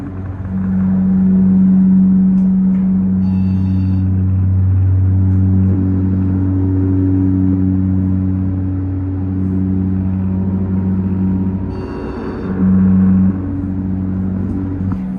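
A Montgomery KONE dry-powered hydraulic scenic elevator motor at an IKEA store runs with a loud, steady droning hum, its low tones shifting slightly over about fifteen seconds, with a brief higher whine near the start and again near the end.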